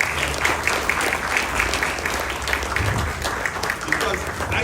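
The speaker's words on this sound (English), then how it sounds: "I want us to give my team a round of applause" An audience at a children's carnival band launch applauds the design team. Sustained, dense clapping from a crowd runs throughout, close and lively, with a few faint voices mixed in.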